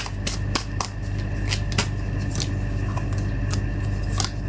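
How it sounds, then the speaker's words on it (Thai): Tarot cards shuffled, drawn and laid out on a table, giving a string of crisp, close snaps and flicks at an irregular pace over a steady background hum. "เดี๋ยวเรามา เปิดไพ่ในส่วนขยายกันต่อนะคะไพ่โรโตนะ"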